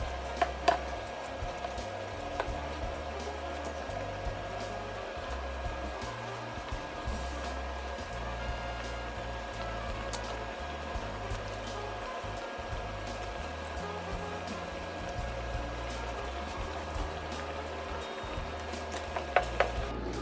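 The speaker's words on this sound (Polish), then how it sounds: "Truskawki smażymy 5 minut, nie dłużej, ponieważ stracimy smak." Strawberries frying in a pan with sugar give a steady soft sizzle and hiss that runs throughout, with faint scattered clicks of utensils.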